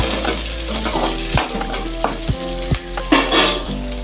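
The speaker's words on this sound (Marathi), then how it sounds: "हिरव्या मिरच्या पण चांगल्या परतून घ्यायच्या।" Green chillies and crushed garlic frying in a pan give a loud steady sizzle, with occasional clinks and scrapes of a spoon stirring against the metal and no voices.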